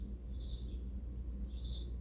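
Birds outside chirping loudly, two bright repeated bursts of tweets about a second apart over a low steady indoor hum, no talking.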